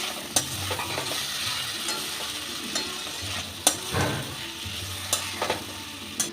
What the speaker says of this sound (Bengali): এবার দিয়ে দেব ভেজে রাখা পটল।